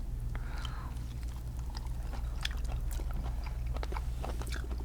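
Someone bites into and chews a grilled squid fin glazed with sweet honey orange, with close, wet crunching and chewing clicks repeating steadily over a constant low grill hum.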